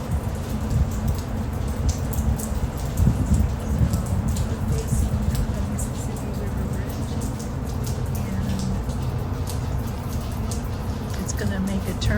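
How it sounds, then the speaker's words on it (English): Steady rain falls outdoors on a cold, cloudy day near the Mississippi River, a continuous broadband hiss of drops that runs evenly throughout, with faint rumble and voices mixed underneath. "But oh boy, it is raining out and cold."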